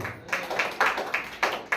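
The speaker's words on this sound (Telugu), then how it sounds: "చప్పట్లు కొట్టండి" An audience at a Telugu Christian sermon clapping, a handful of distinct claps in a loose, uneven rhythm, moderately close.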